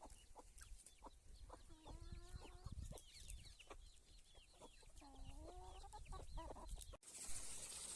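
Chickens cluck and chatter on an open Gujarati farm field, repeated bursts of clucking over a breezy outdoor background, with a sudden rush of wind noise near the end.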